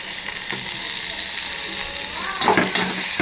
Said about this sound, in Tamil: தக்காளியும் சேர்த்து வதக்குவோம்